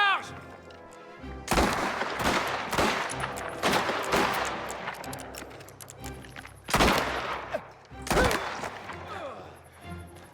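Gunfire in Mafia The Old Country: loud separate shots and short bursts crack out at irregular intervals, with reverberant tails and shouted dialogue between them.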